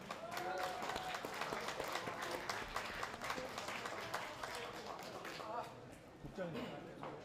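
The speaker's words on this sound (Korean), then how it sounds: "큰 박수 부탁드립니다." Crowd applause in a Korean pro boxing event hall ahead of the main event, steady clapping across the whole stretch with voices and a public-address voice talking over it.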